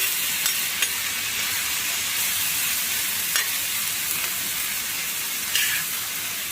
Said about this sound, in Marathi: 4-5 मिरच्या आहेत हिरव्या, 2 टोमॅटो आहेत. आता आपल्याला हे सर्व भाजून घ्यायचं आहे